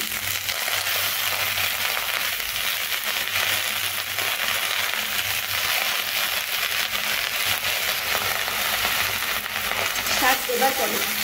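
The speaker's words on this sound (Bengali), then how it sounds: "এবার আমি এখানে আমার যে শাকগুলোকে আমি রেডি করে রেখেছি এই শাকগুলোকে আমি এখানে দিয়ে দিচ্ছি।" Eggplant, potato and red spinach fry in a pan with a loud, constant sizzle and crackle, steady throughout with faint stirring scrapes near the end.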